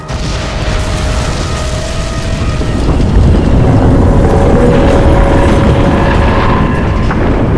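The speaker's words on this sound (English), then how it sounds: "Explosion imminent." A large explosion in the video game Crysis 2 produces a loud sustained roaring boom with rumbling debris that swells midway and holds at high level throughout, with no speech.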